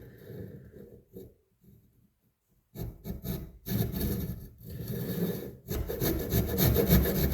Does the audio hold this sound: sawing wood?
yes